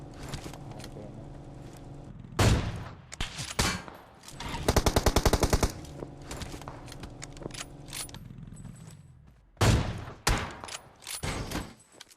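Bursts of automatic gunfire in the battle game BGMI, with a loud single shot, a rapid rattling burst in the middle and another sharp shot later, over steady game ambience.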